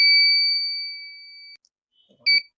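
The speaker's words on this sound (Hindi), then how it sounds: "तो फिर जब आप आंख बंद करते हैं तो 2-3 सेकंड के बाद बजर बजना शुरू करता।" The buzzer on a pair of anti-sleeping glasses, which sounds when the wearer's eyes stay closed, rings a bright, steady electronic tone that slowly fades. After a short pause, a brief second beep follows.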